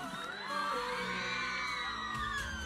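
A crowd at a school awards ceremony applauds and cheers for a winning high school team from Gokak, a dense, steady roar of clapping with shouts and whoops throughout.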